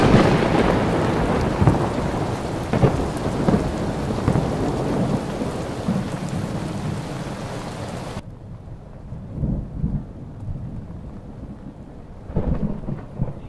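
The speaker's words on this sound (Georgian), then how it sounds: "ისევ წვიმს, ისევ ქუხს" A thunderstorm with rain, loud dense rainfall with rolling thunder for the first part, then quieter patter with low distant rumbles, no talk.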